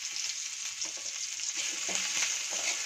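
Chopped ginger, garlic and green chilli fry in hot oil with a dense, even sizzle and light crackle. Occasional soft stirring sounds come through, and no one talks.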